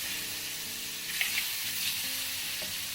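Garlic sizzles in hot oil in a pan with spice powder while seer fish in soya sauce is prepared, a steady loud fry with a few brief stirring clinks and no talk.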